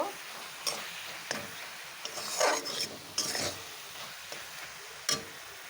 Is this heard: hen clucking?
no